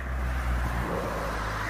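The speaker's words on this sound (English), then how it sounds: "We'll let the car go past" A car drives past on a quiet Sunday morning street in Bosnia, its low engine rumble and tyre noise steady and close, briefly swelling before easing off, with no speech.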